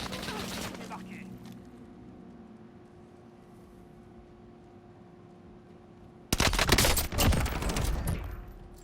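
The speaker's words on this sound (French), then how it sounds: "Il y a des tirs à l'intérieur." Video game gunfire: a dense rapid burst of shots at the start, then a quiet stretch, then loud sustained firing near the end, with a voice heard briefly.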